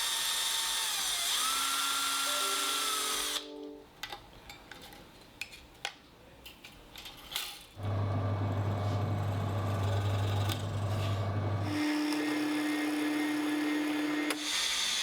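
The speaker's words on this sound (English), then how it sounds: "I can drill for the inserts." A power drill whirs in several bursts, drilling holes in a guitar body, pausing between runs, with a steady high-pitched motor drone and some clattering handling noise in the gaps.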